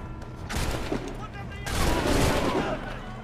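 Two ragged musket volleys crash out in Assassin's Creed III, each a burst of overlapping loud shots with a rumbling tail. Voices are heard faintly between and under the firing.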